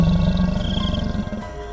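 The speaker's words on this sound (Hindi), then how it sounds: "चुड़ैल गुर्राने लगती है।" A witch's growl, a horror-story sound effect: a deep, rough, roaring snarl, loud and close, rumbling continuously for under two seconds before trailing off.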